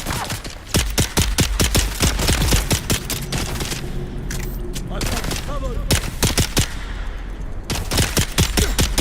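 A turret in Dune: Awakening fires sharp, evenly spaced shots in long rapid bursts, loud and close, with a brief pause midway and some voices in between.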